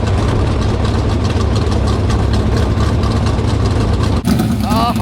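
Winged race car engine running without mufflers, a loud continuous raw rumble that holds steady and then surges briefly near the end, close by with no talk over it.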